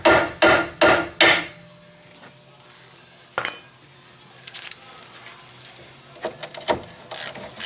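A few sharp hammer blows ring out up close during a tie rod repair on a 2006 Ford Focus, followed by a single bright metallic strike that rings briefly, then scattered lighter knocks.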